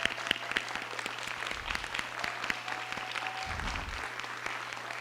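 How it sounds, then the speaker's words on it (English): Applause from a modest audience at a school district board meeting, steady scattered clapping lasting several seconds at moderate level, with no talking over it. "Please join me in a round of applause."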